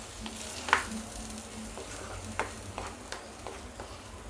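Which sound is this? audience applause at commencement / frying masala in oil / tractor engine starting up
frying masala in oil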